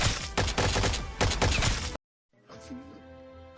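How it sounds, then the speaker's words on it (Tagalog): Gunfire in a televised drama shootout between police and a gang, loud, dense bursts of shots rolling for about two seconds, then a sudden cut to quieter sound with a voice speaking. "Habang nakipagbarilan sila Tanggol sa mga pulis at grupo ni Geronimo"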